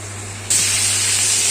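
Nasi goreng with chili padi stirred in a hot pan, a loud steady sizzling hiss bursting up suddenly and holding on without pause, with a low hum beneath.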